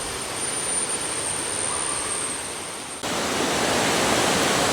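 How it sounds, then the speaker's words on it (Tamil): Steady broadband rushing of water, loud and continuous, from a nearby waterfall at Lata Kinjang, growing a little brighter partway through; no voices. "இந்த பூச்சி சத்தம், தண்ணி சத்தம் காதுக்கு இனிமையாக சந்தோஷமாக சிறப்பாக இருக்குது."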